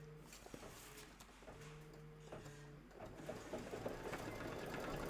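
An embroidery sewing machine runs a quilting stitch, its needle tapping in a fast steady mechanical rhythm with a humming motor, close by and fairly quiet, growing slightly busier toward the end.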